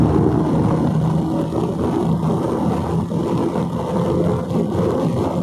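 A Bajaj Dominar 250 BS6 motorcycle at high speed during a top speed run, heard as a loud, continuous engine drone mixed with heavy wind roar, steady throughout with no distinct gear shifts.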